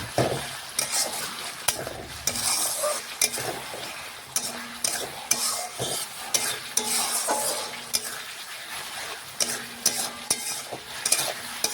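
Cauliflower and potato curry with egg being stirred and fried dry in a wok, with a steady crackling sizzle broken by repeated scraping strokes of a spatula against the pan, close and fairly loud with no talking.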